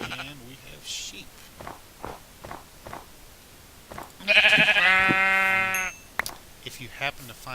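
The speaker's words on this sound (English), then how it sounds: "And we have sheep." A sheep bleats in a Minecraft-style survival video game, one loud drawn-out wavering cry that comes between soft footstep sounds and a person talking.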